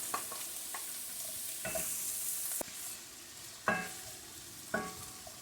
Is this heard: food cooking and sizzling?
yes